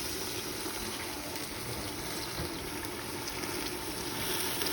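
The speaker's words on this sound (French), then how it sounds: "Et je vais ajouter de l'eau, bien sûr," Hot water pours into a tagine of quinces and okra, a soft continuous gush and trickle that stays faint and even for several seconds, heard alone.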